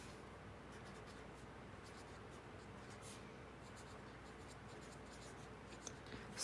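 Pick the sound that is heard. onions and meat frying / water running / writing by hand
writing by hand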